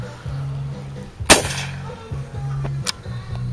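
A .22 shot shell fires from a Stevens rifle as one sharp, loud crack, followed moments later by a second fainter report, over a steady low engine-like hum.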